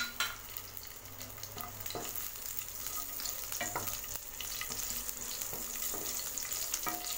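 Slit green chillies frying in oil with cumin seeds, a fairly quiet, continuous crackling sizzle with frequent small pops and occasional spatula scrapes over about seven seconds, no voices.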